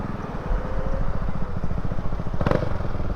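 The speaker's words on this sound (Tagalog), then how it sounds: "Yan ang motor, no?" Motorcycle engine idling close by in Pangasinan, Philippines, a rapid rhythmic putter with a brief clatter near the end, steady and fairly loud.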